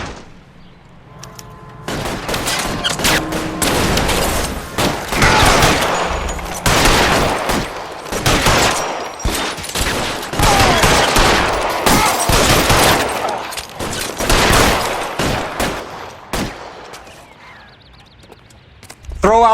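Gunfire in the L.A. Noire game: loud, dense bursts of shots crack out over a long stretch, some rapid and clustered, others spaced, with brief pauses between volleys and a little game noise.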